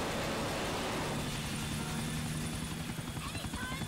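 Helicopter engine from GTA 4 running with a loud steady rotor thrum and whine throughout, while voices talk over it.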